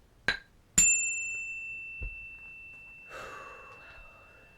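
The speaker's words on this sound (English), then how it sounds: "I'm going to ring my bell to clear." A single bell struck during a spiritual energy-clearing ritual rings out with a bright, sustained tone that slowly fades over several seconds, after a short breath and a soft click, with faint movement later.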